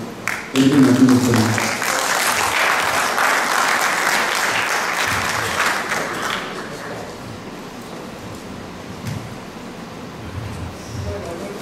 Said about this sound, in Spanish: les pido un fuerte aplauso para la sesión